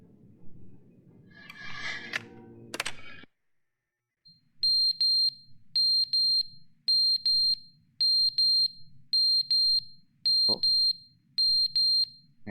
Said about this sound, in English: There's some kind of alarm.